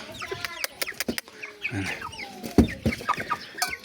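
Young rooster chicks cluck and peep in short, irregular bursts, close by and fairly quiet, with scattered overlapping calls across the whole stretch.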